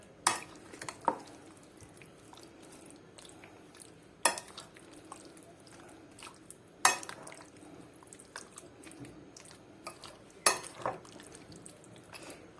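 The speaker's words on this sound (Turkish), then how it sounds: "şimdi 2 yemek kaşığı yoğurt da ilave ettim ben. Onu da güzel karıştıracağım." A spoon stirs yogurt into a dish, giving soft, quiet wet scraping with occasional sharp clinks of metal on the pot at irregular intervals and no talk.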